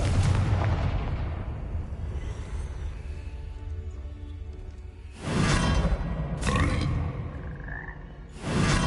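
Confringo fire spell blasting in Hogwarts Legacy: two loud broadband bursts crash in near the end, each with a roaring burst and a crackling tail, after a stretch of low ambient rumble.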